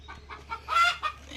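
Local backyard chickens clucking, a short run of soft, quiet clucks in an uneven rhythm with one slightly louder squawk partway through, heard alone without talk.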